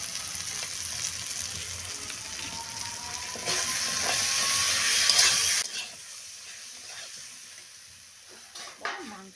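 Spice paste sizzling and being stirred in a hot pan, a steady frying hiss that swells louder midway, then fades to quieter scraping and stirring near the end.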